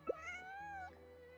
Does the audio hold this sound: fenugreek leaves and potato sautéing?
no